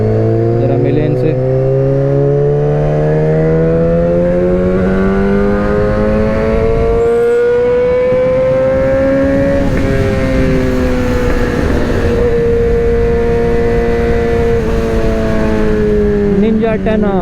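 A Kawasaki Ninja 10R, a 1000 cc sport motorcycle, revs loudly and close by, its engine note climbing steadily and then shifting as it passes, over a constant roar with no break.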